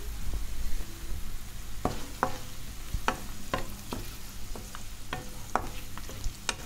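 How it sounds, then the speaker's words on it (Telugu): Cashews frying in a pan while being stirred, steady soft sizzle under scattered scraping and tapping of the spoon, fairly quiet and close, with no voices. "ఇందులో మనం జీడిపప్పు వేసుకుందాం"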